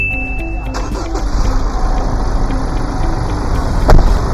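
A donor car's engine starts up and settles into a steady idle during a jump start, a close mid-pitched rumble with a brief bump near the end.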